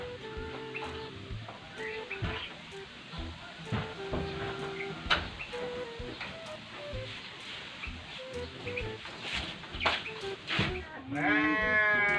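A sheep bleats in a short, wavering cry near the end, heard over a busy background of other sounds.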